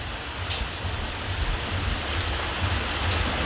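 Steady rain falls continuously outside a house, a dense even hiss with scattered drips and patters, moderately loud and close, with no voices.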